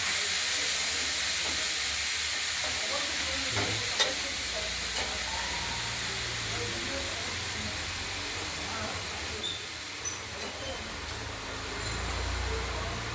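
Cabbage, potato, peas and tomato curry stirred in a pan, giving a steady close sizzling hiss with a few faint scraping clicks scattered through.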